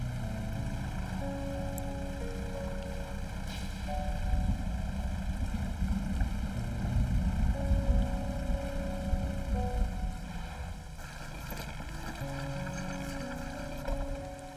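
Fishing boat with an upgraded second engine chugging steadily across dark water in the eldritch fishing game Dredge, a continuous low motor drone under ambient music, with no voices.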